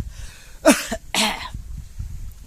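A man near livestock on a farm coughs twice, two harsh, close bursts about half a second apart, followed by a quiet background with no talking.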